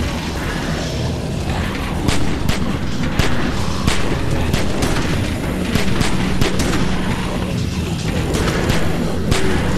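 Rapid, dense gunfire fills The Walking Dead video game as a group defends a gate: loud, repeated sharp shots in quick irregular succession over a constant noisy battle background, with no talk.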